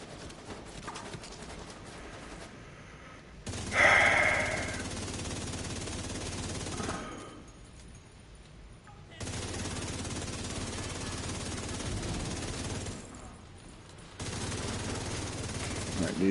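Enemy machine gunners fire in The Division 2: sustained bursts of automatic gunfire come in long blocks separated by brief lulls, mixed with game ambience and a dense, loud texture throughout.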